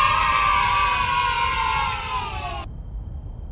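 A crowd at a camp cheers and whoops with high excited voices for a few seconds, loud and close, then the sound cuts off abruptly, leaving quieter background noise.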